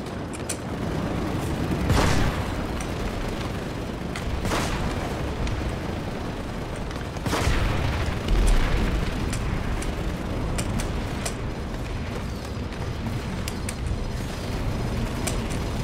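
Loud booming explosions from the PlanetSide battlefield as an enemy generator is destroyed, with heavy blasts near 2 and 7–8 seconds over a continuous roar of distant gunfire and combat rumble.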